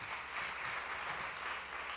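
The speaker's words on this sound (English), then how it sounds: "Give yourselves a round of applause." An audience at a high school graduation ceremony applauds in a steady, even wash of clapping that runs throughout, with no talk over it.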